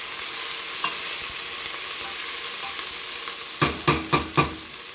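Onions sauté in a pan for chicken cacciatore with a constant, close hiss of frying, then four sharp knocks of a utensil on the pan in quick succession near the end.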